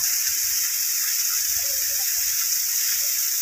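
Mountain waterfall in Arunachal Pradesh, water pouring down from high above in a steady broadband hiss and rush, with faint low thumps underneath.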